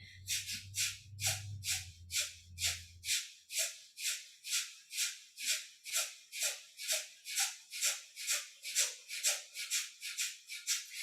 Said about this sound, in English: This is our active exhales, passive inhales, breath of fire.